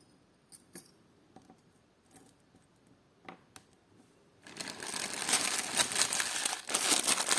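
Scattered soft crinkles, then a sustained, dense crackling rustle of a plastic packaging bag being handled close by while unpacking a parcel of vintage pearl jewellery, growing louder in the second half.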